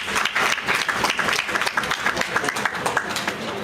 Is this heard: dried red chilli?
no